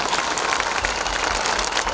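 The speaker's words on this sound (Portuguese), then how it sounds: "E eu peço uma grande salva de palmas para o Roberto." Crowd applause at an outdoor tribute to Roberto Leal in Macedo de Cavaleiros, a brief, dense wash of many clapping hands at moderate volume, steady for the short span.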